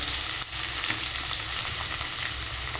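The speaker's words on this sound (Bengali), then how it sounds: "আলুটা হালকা হালকা ভাজা হয়ে গেছে" Potatoes fry lightly in a pan for a ghugni, giving a steady, close sizzle that runs unbroken throughout with no voices.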